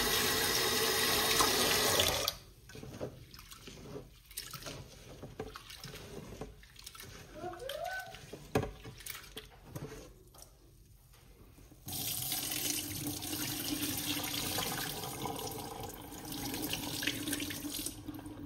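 Tap water runs into a bowl of red lentils being washed for Goan dal, a steady rush at the start and again toward the end with quieter splashing and handling between, and a person talking over it.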